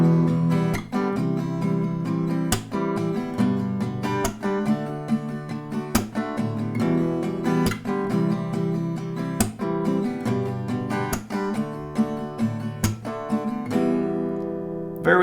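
An acoustic guitar strums chords in a steady down-up rhythm with regular sharp claps on the beat, playing a song at moderate volume throughout with no talking.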